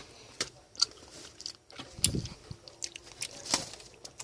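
Close, soft crunching bites and chewing of a sweet Garu Cook snack tasting like chocolate banana, with irregular sharp crackles and mouth noises at a quiet level.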